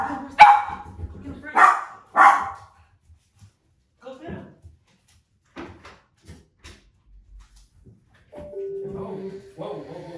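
Dogs, a pit bull and a small dachshund, give a few sharp barks near the start, followed by quieter household knocks and a person talking.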